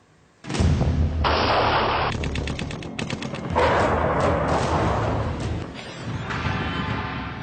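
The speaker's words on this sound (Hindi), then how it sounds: "इंटरनेशनल बॉर्डर से लेकर एलओसी तक गोलीबारी।" Gunfire along a border line of control, loud bursts of shots and rapid cracking volleys following each other over several seconds, with rumbling blasts between them.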